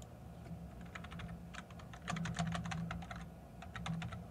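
Keys clatter in quick irregular bursts on a computer keyboard as a file name is typed during audio software setup, close and clear with a short pause midway and no talking.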